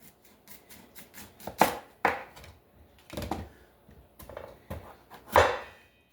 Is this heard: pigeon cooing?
no